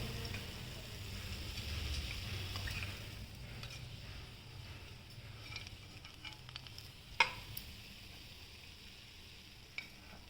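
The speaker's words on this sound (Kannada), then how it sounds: "ಇದೊಂದು ನಾಲ್ಕು ಮೆಣಸಿನ್ಕಾಯಿನೂ ನಾನು ಈಗ ಹಾಕ್ಕೊಂಡು ಅದನ್ನು ಫ್ರೈ ಮಾಡಿಬಿಟ್ಟು ಹಾಕ್ಕೊಳ್ತೀನಿ ಇದಕ್ಕೆ" Four green chillies fry in hot oil for crispy paneer pakoda, giving a steady low sizzle that fades over time, broken by a sharp clink of a utensil and a few light scrapes; no talking.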